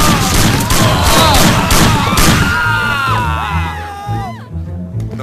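Gunshots in the Mafia video game, PS2 version: rapid loud bangs crackle over shouting voices and a crowd-like commotion, then the firing thins out as whistling tones take over.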